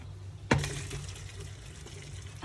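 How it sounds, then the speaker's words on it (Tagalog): Pot of hot water from cooked macaroni tipped into a drainer: a sudden splash and then a steady, close rushing pour that carries on to the end. "So, i-drain na natin ngayon."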